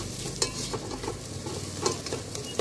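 Onions sizzle in a pan in an electric rice cooker while a spoon stirs them, a close, continuous frying hiss with scraping strokes and small clicks, and no voices.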